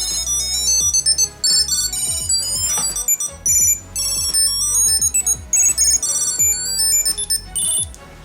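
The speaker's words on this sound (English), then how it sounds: "If you guys want to make the sound or the alert," A Keysmart Pro trackable key holder sounds its locating alert, a loud electronic ringtone of rapid repeating high beeping tones in short bursts with brief gaps, close and alone.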